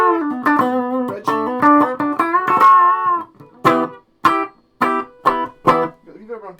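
G&L ASAT Junior electric guitar on its bridge stacked P90 pickup through a Laney amp: a quick riff, then several separate stabbed chords with short gaps of silence between them, loud and close.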